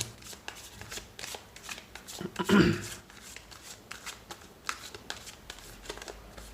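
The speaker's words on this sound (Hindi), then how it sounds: "3 कार्ड्स निकालता हूँ यहाँ से और जान लेते हैं" Tarot cards riffled and drawn from the deck, a soft papery shuffle swelling to a brief burst near the middle, with lighter flicks and taps scattered around it, close and quiet.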